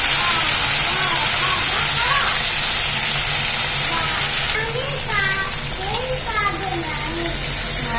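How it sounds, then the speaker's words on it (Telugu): Fenugreek leaves fry in hot oil in a kadai for a tomato-chili chutney, giving a loud continuous sizzle and hiss with a voice speaking over it throughout. "మెంతి కూర వేసుకున్న తర్వాత కొంచెం ఆయిల్ అయితే ఫ్రై చేసుకోవాలన్నమాట"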